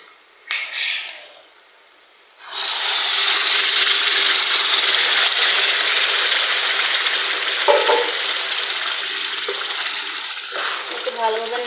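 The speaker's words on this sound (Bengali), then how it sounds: "একটু ভালোভাবে নেড়ে চেড়ে নেবো" Taro leaves dropped into a pan already frying prawns, onion, garlic and cumin, a brief clatter and pause, then a loud, sustained sizzle with occasional stirring knocks, close up.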